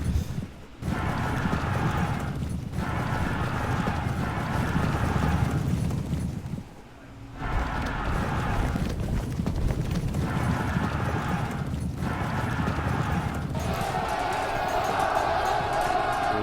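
Cavalry horses galloping in the Pike and Shot strategy game, a steady dense thunder of hooves with crowd-like battle noise, continuous and loud apart from a brief dip midway.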